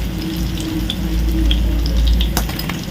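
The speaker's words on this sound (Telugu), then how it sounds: "రెండు వైపులా ఫ్రై అయినాయి చూడండి." Fish fries in hot oil in a pan, a loud, continuous sizzle with a few light pan clinks, heard close with no one speaking.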